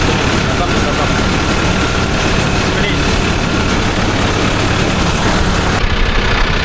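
A Mahindra Arjun Novo 605 DI tractor engine runs at a steady, loud, continuous drone with a heavy low rumble throughout, close up and unbroken.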